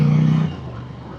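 A 2019 Ducati Scrambler motorcycle on street tires in the woods, engine revving hard at full throttle, a loud droning note that holds for about half a second and then drops back to a lower rumble.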